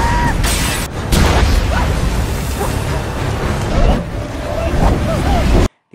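A flashbang grenade goes off in a film action scene, loud crashes and bursts piling up chaotically, with shouting voices and ringing tones mixed through the din.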